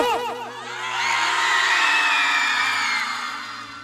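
A crowd at a Jat Jatin folk performance contest erupts in loud cheering and whooping, voices swelling into a sustained roar before slowly easing off.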